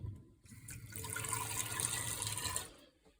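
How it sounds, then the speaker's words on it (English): A mixing bowl rinsed under a kitchen tap: water runs steadily into the bowl for about two seconds, close and moderately loud, then cuts off. "Now with the egg mixture in, rinse out the bowl."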